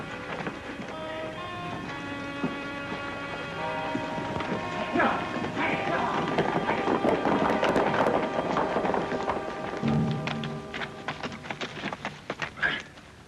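Clip-clop of horse hooves over a busy mix of music and voices, steady trotting rhythm at moderate distance with a brief whinny-like burst near the end.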